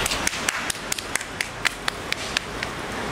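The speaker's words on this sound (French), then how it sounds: "On applaudit." Sparse applause from a small group on a Paris street, about a dozen separate sharp claps spread at an uneven rhythm, fairly close and without voices.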